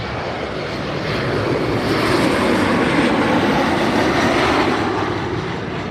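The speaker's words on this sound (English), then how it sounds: "This is a 777-200ER." KLM Boeing 777-200ER airliner at LAX airport, a loud, steady jet engine roar that swells in the first second and then holds as a broad, sustained rumble close by.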